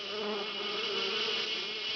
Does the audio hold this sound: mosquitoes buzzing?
yes